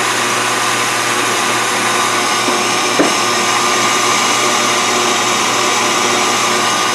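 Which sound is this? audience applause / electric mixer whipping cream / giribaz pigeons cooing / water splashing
electric mixer whipping cream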